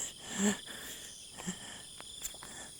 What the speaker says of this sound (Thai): จิ้งหรีด ได้ยินไหม เสียงจิ้งหรีดร้อง